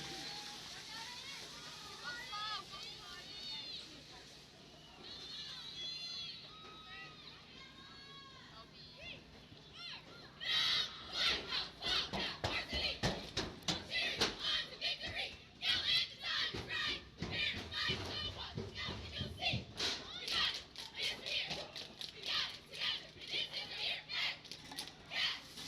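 Varsity cheerleaders perform their traditional cheer at Wildcats Stadium in Whitehouse, Texas, shouting children's voices at first, then a louder crowd burst with rhythmic, percussive clapping and yelling that continues steadily to the end.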